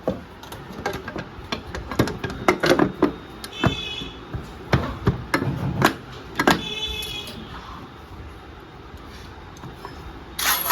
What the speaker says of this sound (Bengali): এবার আমি এই ক্লাচ কভারটাকে বসিয়ে দেবো।